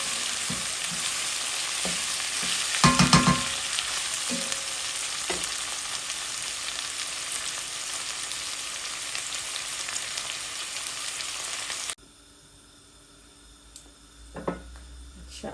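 Red and green bell peppers fry with onions in a pan, giving a steady loud sizzle with a few stirring scrapes near the start, then the frying drops abruptly to a quieter hiss with one brief clink near the end.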